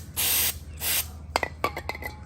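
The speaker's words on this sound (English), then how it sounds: "So you want to spray it down real good." Two long hissing bursts of degreaser sprayed onto the engine of a 1999 GMC Yukon, close and loud, followed by several light metallic clinks and taps.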